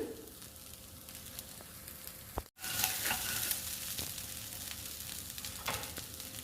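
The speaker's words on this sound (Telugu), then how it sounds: "ఇంకొక నిమిషం ఫ్రై అవ్వాలండి రైస్" Egg rice fries in a pan with a constant close sizzle, broken by a brief cut near the middle and occasional scraping stirs, no voices.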